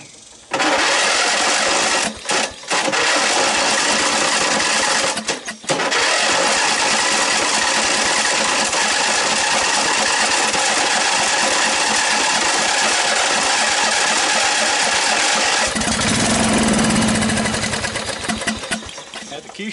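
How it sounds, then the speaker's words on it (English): Small engine of a scrap Snapper 38-inch riding mower cranking over with starting fluid sprayed in, a loud sustained buzzing drone with brief dropouts, then lower rumbling near the end, with no clear talk. "Now let me spray a little starting fluid on it. Cranking good."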